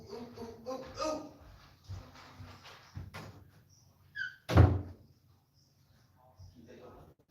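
A door in an underground bunker maze shuts with one loud, close thud after a few small clicks and rattles, while voices talk before it and faintly after.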